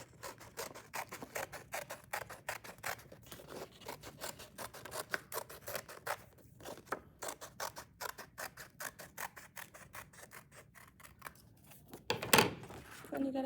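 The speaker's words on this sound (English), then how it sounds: "Cutting out your circle for your snow globe." Scissors snip through paper while cutting out a circle for a snow globe: a long run of close, crisp, rapid cuts in an uneven rhythm, with a louder rustle near the end.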